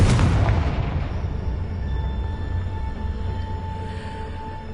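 Confringo blasting spell detonating in Hogwarts Legacy: a loud, booming burst at the start that decays into a sustained rumbling roar, with no voices over it.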